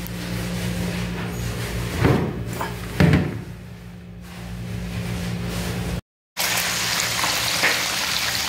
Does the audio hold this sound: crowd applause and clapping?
no